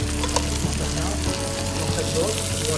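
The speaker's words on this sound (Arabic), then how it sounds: "نحمر اللحم مع الزبده" Meat fries in butter with onions for a Gulf-style majboos: a loud, dense, continuous sizzle close by, with a few faint stirring knocks and no talk.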